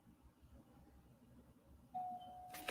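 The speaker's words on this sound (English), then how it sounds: "Oh, my doorbell's just gone." A faint electronic doorbell tone sounds, holding a steady pitch before a brief brighter chime at the end, in a quiet room.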